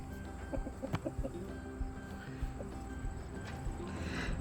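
Chickens cluck in a garden coop: a few close, soft clucks and calls over a quiet outdoor background, with no talking.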